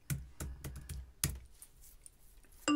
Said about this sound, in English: And go ahead and type in your password.